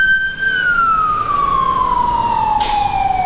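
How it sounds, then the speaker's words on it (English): A fire engine siren glides steadily downward over road noise, close by, with a brief burst of hiss near the end. "That's the fire engine behind me there."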